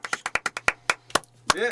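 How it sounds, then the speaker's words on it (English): A handful of people clap in a green room during a folk music show, about nine sharp, uneven claps close by, ending with a brief voice at the close. "Round of applause in the green room."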